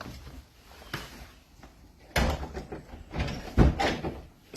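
House door being unlocked and opened, a soft rattle of the lock followed by a louder clunk and thuds of the door swinging, close by and alone.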